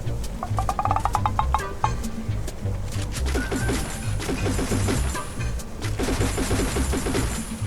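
Rapid sustained fire from a Plasma-X gun in a shooter video game, a dense stream of sharp repeated shots that stays loud and steady, then thickens and grows heavier toward the end of the burst.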